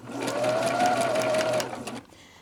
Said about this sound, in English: So here, I'm sewing the 2 top pieces together.